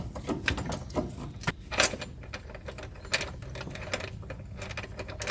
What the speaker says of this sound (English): we'll raise the center jack so we can put in the bolts